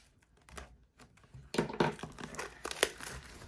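Knife slicing and tearing open the plastic wrapping on a 2022 Panini Phoenix football H2 trading card box, close crinkling and ripping that grows louder halfway through, with no talking.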